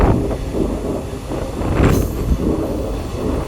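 The Madurai–Trivandrum InterCity Express rolls into Nagercoil Town station with a loud, steady rumble and wind buffeting, plus a brief high screech midway.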